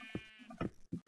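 Sheep in the video game Minecraft bleat in a few short, close, fairly loud calls, spaced unevenly across about a second, with no speech.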